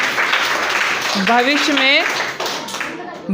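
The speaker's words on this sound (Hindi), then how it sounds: "ताली बजाओ भैया इसके लिए" Students clapping in a classroom after a teacher's prompt, a steady patter of hand claps running through the whole stretch while a voice speaks over it.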